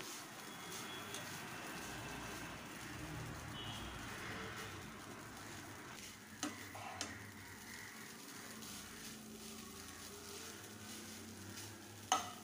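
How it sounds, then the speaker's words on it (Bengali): Chowmein with added spices fries in a pan with stirring, a soft, steady sizzle punctuated by a few sharp utensil clacks against the pan, quiet and close. "মশলাটা দিয়ে একটু ফের আবার একটু ভাজা করে নেব।"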